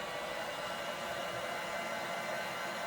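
Steady whooshing blast of hot air from a heat gun warming a Dbrand skin on a Nintendo Switch OLED, continuous and close, with no breaks or voices.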